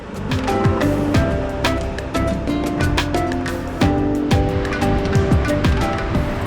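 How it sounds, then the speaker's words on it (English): Surf breaks steadily on Granite Beach in Tasmania, a continuous washing roar with rolling surges, close and loud, among large round pebble stones. "Our last few steps down the Granite Beach."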